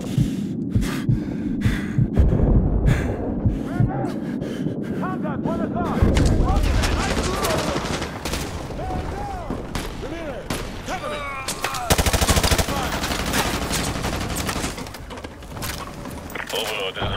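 Dense combat gunfire from the video game Call of Duty: Modern Warfare 2 mixes sharp rifle shots, rapid bursts and heavy booming blasts in steady succession, with loud explosions and radio-style voices speaking over the battle.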